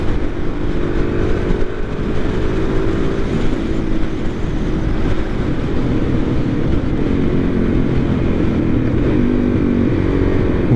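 A 2023 Suzuki DR-Z400SM motorcycle engine at high speed, a loud, steady drone with wind roar and no speech.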